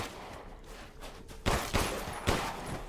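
Fully automatic pistol firing in Resident Evil Village, a few loud bursts of rapid shots ringing out over a steady game ambience with no talk.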